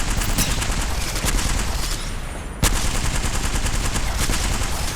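Sustained rapid gunfire in the video game Apex Legends crackles through, dense automatic bursts with a brief lull midway, then a sharp shot and continued firing, loud and unbroken.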